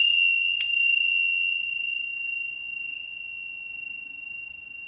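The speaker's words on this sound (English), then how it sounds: "I'm just going to ring the bell." A single bell is struck once and rings out with a pure, sustained metallic tone that slowly fades in a quiet room, with a faint second tap right after the first.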